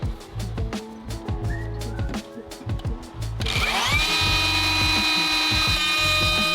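DeWalt DCW620 cordless plunge router cutting MDF with the extraction hose removed, a close, loud whine with rhythmic chattering bursts, then a sustained high-pitched cut.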